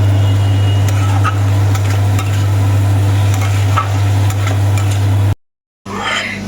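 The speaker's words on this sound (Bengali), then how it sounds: "এখানে এখন আলু ফুলকপির মশলা বসানো হচ্ছে" Potato and cauliflower curry simmers and fries in a pan, giving a continuous close sizzle with light stirring scrapes over a steady low hum, cut off abruptly near the end before resuming briefly.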